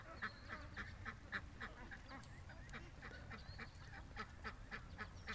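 A muddy farm duck quacks repeatedly in a steady, busy run of calls over low background rumble, fairly faint and somewhat distant, with no speech.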